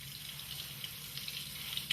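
Running water pours steadily over an etched metal sample in a lab, a soft continuous splashing and hiss with faint gurgles, close and fairly quiet.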